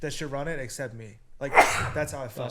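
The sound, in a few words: sneeze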